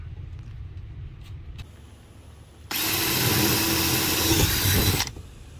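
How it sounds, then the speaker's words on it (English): Power drill boring pilot holes in a faux brick wall panel for a guest room, a steady loud whine of about two seconds after quieter background hum, no voices. "made pilot holes for all my corners"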